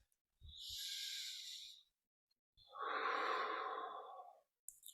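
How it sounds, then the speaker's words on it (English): Two slow, deep breaths, a long inhale and then a longer exhale, close and alone in a quiet room with brief pauses between. "Take a deep breath."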